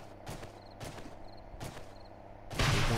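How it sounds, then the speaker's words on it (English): Rocket launcher fire in the video game 7 Days to Die, blasting things in a wealthy town: a few dull, evenly spaced thumps followed by a louder rushing explosion at the end, heard alone. "I'm just destroying things with this rocket launcher"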